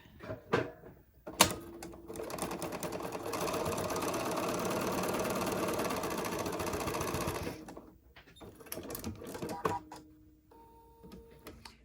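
Sewing machine stitching quilt pieces at a quarter-inch seam, a steady fast mechanical whir running for several seconds, close and clear, framed by handling clicks and taps before and after.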